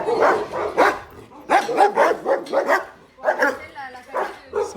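Dogs barking at an animal shelter, repeated loud barks and yips in quick bursts with short pauses between them, near and echoing.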